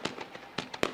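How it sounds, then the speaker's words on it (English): Fireworks bang in the background at a dirt-track speedway finale night, sounding as several sharp crackling bursts spread irregularly across one second, moderately loud and with no voices over them. "Fireworks continuing to go off in the background."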